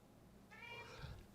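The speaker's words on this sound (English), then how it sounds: "Sorry, cat's yelling at me." A house cat gives one short, faint meow midway, heard indoors over a quiet background hum.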